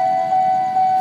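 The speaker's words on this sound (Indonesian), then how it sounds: "Akan masuk lagi satu kereta" A train pulls into a station near Pondok Jati, a steady loud hum with a sustained high whine running throughout over a low rumble, brief and close.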